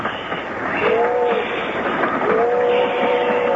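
A train rolls steadily along, heard from inside its dining car as a loud, continuous low rumble with faint tonal squeals rising over it.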